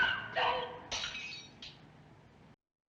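Glass shattering in the film Rear Window, a few quick crashing bursts and tinkling fragments, faint and distant, fading to silence.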